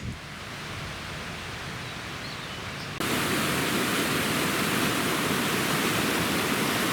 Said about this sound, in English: Sounds like we're about to cross the other half of Grizzly Creek.